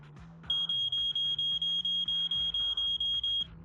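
A fire alarm warning siren in the Zenless Zone Zero video game, a steady train of piercing electronic beeps pulsing about four times a second for three seconds, loud and close, over a low game music bed.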